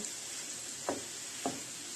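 Meat stews and sizzles in a pot for Ukrainian-style lagman, a steady close crackling hiss with two soft stirring scrapes, no voices.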